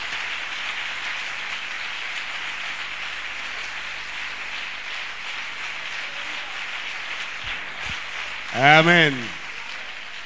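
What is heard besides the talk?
congregation clapping hands for the Lord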